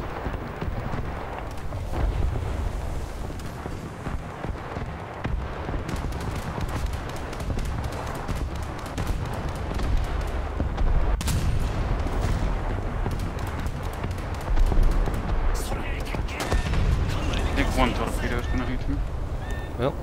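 Naval guns fire in a War Thunder ship battle, with repeated heavy booms and sharp reports scattered through a rumbling backdrop while players talk over the action throughout.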